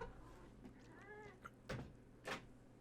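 A pet cat meows once in a short rising-falling call indoors, followed by a couple of sharp knocks or thumps over quiet room noise.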